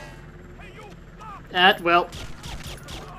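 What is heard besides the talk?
Calypso submachine gun firing in video game 007 Agent Under Fire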